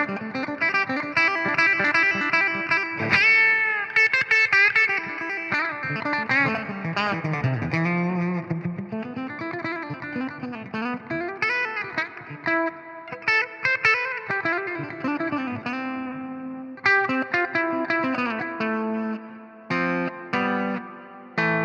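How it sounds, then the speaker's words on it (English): Distorted electric guitar chords played through impulse-response cabinet packs, with a clean-tone demo and a little acoustic blend, ringing in a steady run of strummed and sustained chords with short gaps near the end, fairly loud and alone. "Let's play a couple more chords just to give you the whole sound."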